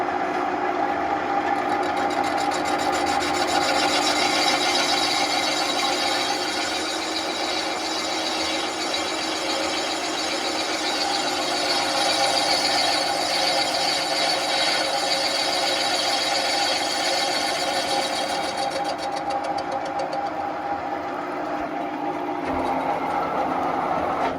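A metal lathe cuts aluminium under manual feed while a DKW (1938) crankcase is being turned, giving a steady, loud machining whine and hum that runs unbroken the whole time with no talk.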